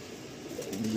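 A Malwai pigeon offered for sale gives a short, low throaty coo at close range, rising at the end of a one-second moment with faint background hiss and no speech.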